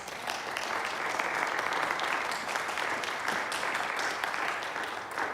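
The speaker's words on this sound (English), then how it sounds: "Can we have some applause?" Congregation applause at a church conference after an opening worship service, sustained broadband clapping from a sizable crowd at a constant level with no talking heard.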